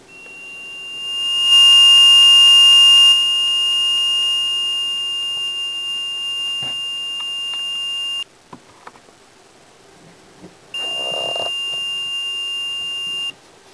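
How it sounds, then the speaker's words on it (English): A low water sensor alarm buzzer sounds a loud, steady high-pitched electronic beep for several seconds, cuts off amid a few clicks, then returns briefly. "The buzzer also has a volume control."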